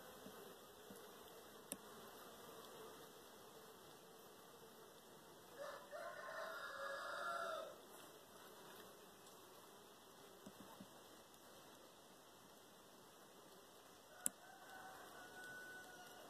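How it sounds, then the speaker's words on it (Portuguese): Bees from a defensive hive built inside an old cassava press at a traditional flour house give a faint, steady drone, with a brief louder buzzing swell partway through and a rooster crowing in the distance. "A colmeia fez uma casa dentro da prensa."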